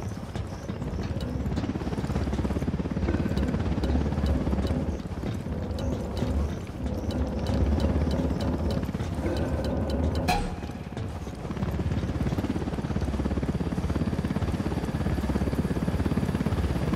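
A helicopter flies in the Ghost Recon Wildlands video game, producing a steady, fairly faint rotor rumble with a rhythmic chopping texture that holds throughout without a break.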